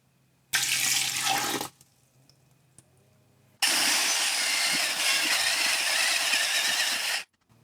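Water poured into a clay slip mixture made from slip-casting trimmings, heard as two steady splashing pours, a short one then a longer sustained one, close and fairly loud with a quiet gap between.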